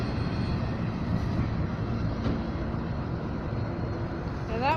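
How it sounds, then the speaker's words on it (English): The tail end of a mixed freight train rolls past close by, making a steady, heavy rumble of wheels and cars. The noise holds even throughout and eases slightly near the end. "Here's the end to this mixed freight train"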